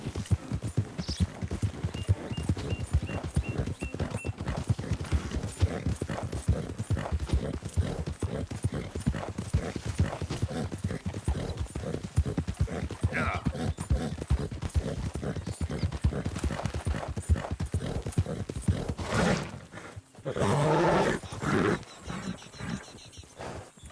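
A horse in the Red Dead Redemption 2 video game walks with a steady clip-clop of hooves and snorts now and then, then ends in a brief louder burst near the finish.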